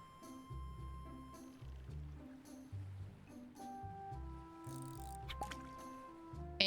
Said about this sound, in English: Release F to cast your fishing rod into the water.